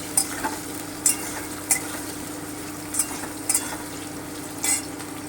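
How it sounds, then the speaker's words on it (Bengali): Chunks of green banana and potato fry in a pan with a constant soft sizzle. Sharp spatula scrapes and taps against the pan come every second or so. There is no talking. "কাঁচা কলাটা আর আলুটা একটুখানি ভেজে নিচ্ছি একটুখানি ভেজে নেব পাঁচ মিনিট মতো হালকা ব্রাউন করে"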